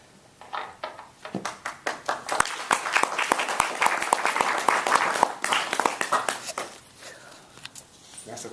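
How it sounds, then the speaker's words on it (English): A few audience members clap in a scattered, uneven burst at a public speaking talk, individual sharp claps rather than full applause, with faint voices murmuring around them. "That's a clap, not a question."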